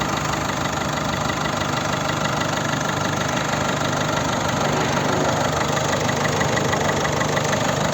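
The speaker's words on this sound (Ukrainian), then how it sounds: "Ось робота двигуна." A 2010 Peugeot 3008 1.6 HDi diesel engine idles close up, a steady rhythmic knocking clatter that stays constant and fairly loud throughout.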